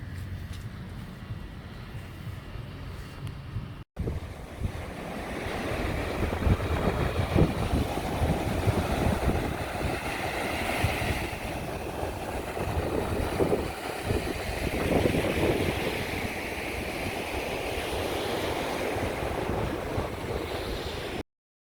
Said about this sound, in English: It's quite a wild coastline, it does get quite blowy.